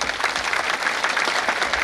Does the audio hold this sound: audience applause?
yes